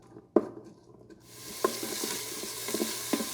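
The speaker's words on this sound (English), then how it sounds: "we're just going to saute this briefly just to soften the onions and to develop that sweet caramelized flavor of it" Onions sautéing in an Instant Pot, a soft sizzle that rises and fills in after the first second, punctuated by a few sharp clicks and scrapes of stirring, close and steady with no talk.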